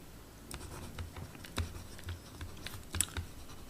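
Pen or chalk scratches and taps in short strokes as a copper wire resistance physics problem is written out during a class 10 electricity lesson, fairly close, with no talking.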